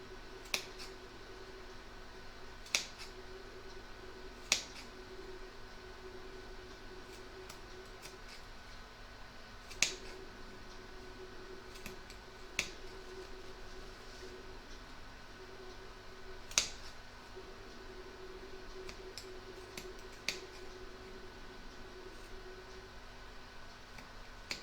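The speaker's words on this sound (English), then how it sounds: "we're going to snip from the outside towards the stitch line on the corners" Scissors snip the fabric corners of a quilted mug rug, a handful of sharp, isolated clicks spaced several seconds apart over a quiet, faintly humming room.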